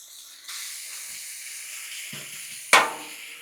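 Sausage and bacon hitting a hot Blackstone griddle: a quiet hiss that swells into a steady sizzle, then a brief clatter and a sharp loud burst of spitting fat that fades back to a close, even frying hiss.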